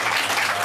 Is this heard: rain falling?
no